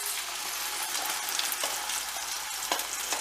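Sauce ingredients sizzle in hamburger grease in a pan, a dense, steady frying hiss with occasional faint scraping from a utensil.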